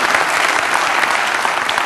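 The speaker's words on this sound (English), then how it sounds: "Nice round of applause." A room full of audience members claps in loud, dense applause that holds steady for its whole length, with no voices heard over it.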